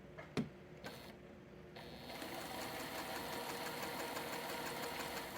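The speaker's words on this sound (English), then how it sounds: "Let's start sewing these together" A quilting sewing machine stitches a bleeder ender. A few sharp clicks come first, then a steady, even mechanical whir runs close to the microphone to the end.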